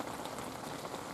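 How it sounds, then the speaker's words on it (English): Hail falling outdoors near a carp fishing spot in late March, a steady dense patter of pellets striking surfaces, continuous and fairly close with no voices. "currently hailing again."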